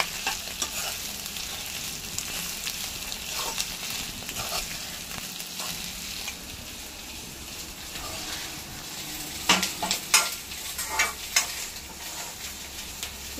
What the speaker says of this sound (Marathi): आणि साईड बाय साईड आपण ह्या मिरच्या त्या पण मग आपल्या भाजून येतील, कढीपत्ता ते पण परतून घेऊया